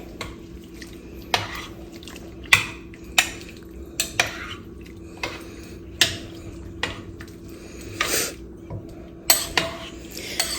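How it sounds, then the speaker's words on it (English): A spoon stirring corn chowder with vegetable broth in a pot, giving about a dozen irregular close scrapes and clinks against the metal over a quiet liquid background. "Give it a good stir."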